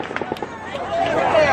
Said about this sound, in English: the 6th volley of automatic gunfire begins